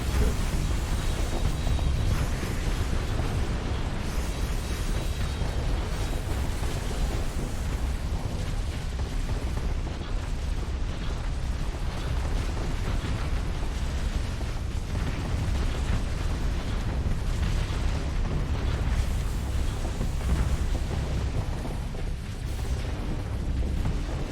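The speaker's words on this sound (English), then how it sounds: "The Preceptor is taking a lot of mortar shots to the hull." Mortar shells and missiles pounding a starship's hull in a Starsector space battle, a dense, continuous barrage of booming impacts and bursts with no talk.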